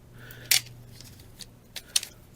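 A few sharp, brief scissor snips cutting garden canes in a quiet room, two distinct crisp cuts about a second and a half apart with faint handling noise between.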